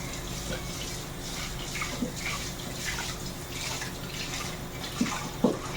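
Dishes washed with a sponge under a steadily running tap, a constant rush of water broken by a few soft clinks and splashes.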